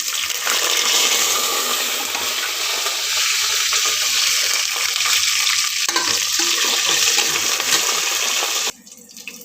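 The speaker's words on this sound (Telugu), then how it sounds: "ఇప్పుడు దొండకాయలు వేసేసుకుందాం దీంట్లో." Ivy gourds drop into hot tempering oil with mustard seeds, cumin, urad dal and curry leaves, setting off a loud, continuous close sizzle that holds steady and then cuts off abruptly near the end.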